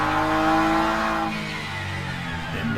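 BMW GT3 race car in Le Mans Ultimate at a sim racing event at Imola, a sustained engine drone that holds high and then drops in pitch as it lifts off, heard up close with no voice over it.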